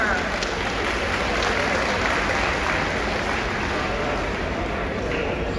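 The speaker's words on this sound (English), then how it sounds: "Please give a round of applause for her" Dense, loud audience applause at a fundraising party for a judge, a continuous roar of many hands clapping at close range with faint crowd murmur beneath.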